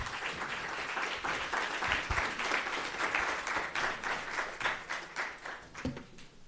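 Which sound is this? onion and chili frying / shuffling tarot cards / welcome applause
welcome applause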